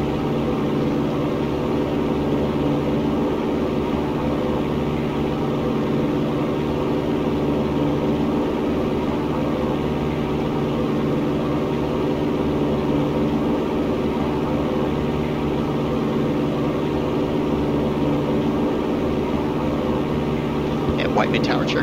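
A Piper Cherokee light aircraft climbs out on takeoff at full power, its engine droning steadily and loudly throughout with a continuous low rumble and no letup.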